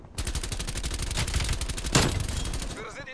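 Rapid automatic gunfire from Call of Duty Black Ops Cold War rattles in a dense, steady burst of shots, with a louder crack near the end before it cuts off.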